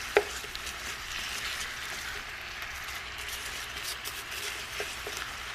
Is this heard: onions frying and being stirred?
yes